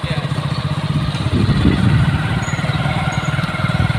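A motorbike rides along a road near an inter college, its engine a steady mid-range rumble with continuous vibration, close and fairly loud throughout.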